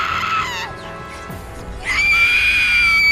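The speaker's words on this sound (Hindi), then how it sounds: "परछाई चीखने लगी और शक्ति की चीखों से पूरा घर कांप उठा" Horror-story sound effect of a shadow screaming: loud, drawn-out shrieking wails that rise, waver and sweep in pitch, fade briefly midway, then return sustained and piercing.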